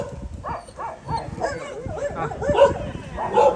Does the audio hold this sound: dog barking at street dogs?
yes